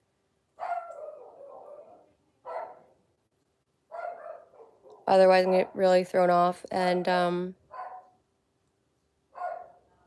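A dog barks in a quick cluster of five or six loud, close barks in the middle, while someone talks in short phrases before and after.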